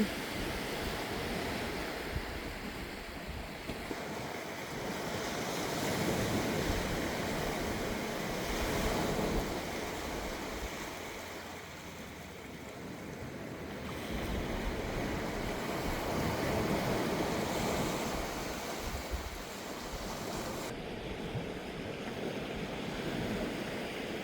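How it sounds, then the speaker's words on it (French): Steady roar of ocean waves breaking on a beach of black volcanic-looking stones, swelling and receding in slow surges, with some wind rumble on the microphone. "Ah, ça fait du bruit, hein, les vagues."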